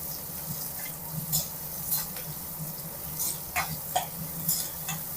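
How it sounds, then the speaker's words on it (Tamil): Onions sautéing in a pan for chana masala, a steady low sizzle with a utensil stirring and scraping at intervals, close and fairly quiet. "வெங்காயம் இது எல்லாத்தையும் நம்ம வதக்கிக்கலாம்"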